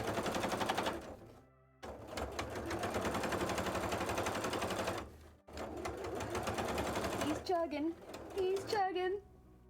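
A sewing machine stitching fabric for a cosplay leg, fast rattling bursts of stitching that stop and restart, loud and close, with the motor straining; a voice talks over the later part.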